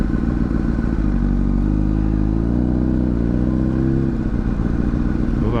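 Loud, steady motorcycle engine running close up while riding through a car accident scene, a continuous mid-pitched drone with slight rises in revs and occasional clatter, no talking.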